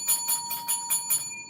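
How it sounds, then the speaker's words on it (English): A small bell rings in a quick, even series of about six bright strokes, close and clear with no talking over it. "Ring the bell."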